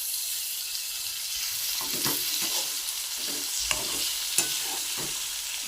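Onion, eggplant and tomatoes frying together in a pan, with a steady hiss under intermittent spatula stirs and a couple of sharper scrapes, and no speech.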